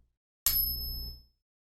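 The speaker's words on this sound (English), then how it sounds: "All we have to do to retest is tap the coin again" A tap on a fake 2020 Silver Eagle coin gives a single bright, high ring with a sharp onset. The clear tones sustain for nearly a second before fading out, close and alone with no talk.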